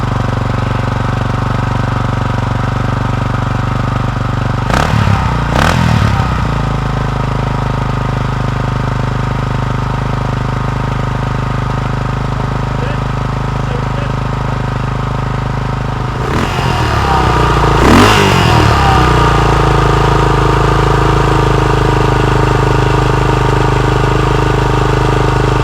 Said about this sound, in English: next up it's the turn of Kevin Maguire's XR 500 Honda.